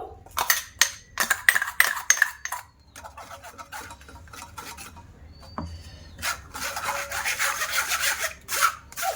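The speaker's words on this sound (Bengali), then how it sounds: "তো এবার একটা ছেঁকনি নিয়ে নিয়েছি, পালং শাকটা আমি ছেঁকে নেব।" Blended spinach being pressed and scraped through a sieve, giving repeated close rasping, rubbing strokes in short bursts with brief metallic scrapes and pauses between them.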